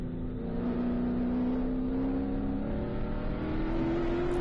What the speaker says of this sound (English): This is a car that we are fairly certain features LS, just monstrously loud on the brakes there into turn 11